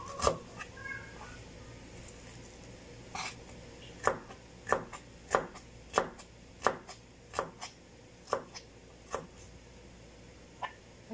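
Onions being chopped with a knife on a board, a kilo of them, in a run of crisp evenly spaced thuds close by, with a few scattered knocks before the rhythm settles.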